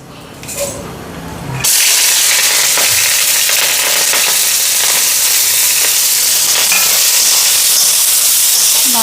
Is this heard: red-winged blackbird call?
no